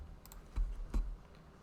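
A few quick, light keyboard clicks and taps during a tabletop game session, sparse and close, with short pauses between keystrokes.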